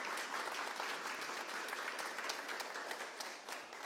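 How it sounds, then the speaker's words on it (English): Spokane audience gives a round of applause for local leaders serving Washington state, steady dense clapping from many hands that runs the whole time with no voices on top. "Let's have a round of applause for the Spokane leaders that you've lent to the state of Washington"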